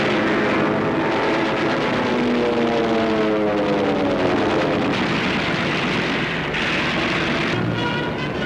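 Engines of wartime RAF Desert Air Force aircraft roar loud and steady, a rough droning with wavering pitch that fills the whole stretch, with no voices over it.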